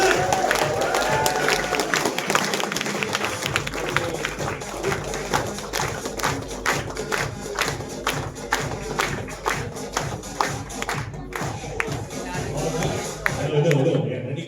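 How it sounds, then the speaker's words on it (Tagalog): An audience at a company alignment meeting claps for the chief operations officer as he is welcomed, with dense, sustained applause and scattered cheers lasting many seconds before fading, and a voice speaking over it near the end. "Mahina po yung palakpak."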